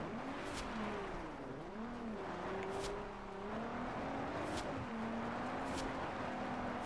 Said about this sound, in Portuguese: Tô fazendo uns drifts muito loucos aqui, tá ligado?